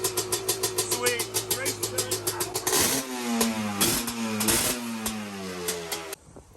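Honda 250R dirt bike with FMF pipe and a sticking throttle, revving in sharp repeated blips, then held in a loud sustained high rev before cutting off, close by.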